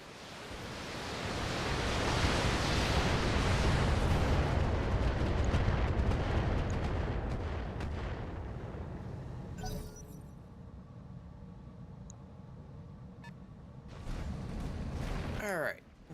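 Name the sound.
artillery firing at a building in the BattleTech BTA mod video game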